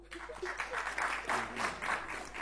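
Audience at a stand-up comedy show applauding for a few seconds, a steady wash of clapping that swells and dips without stopping, with no talk over it.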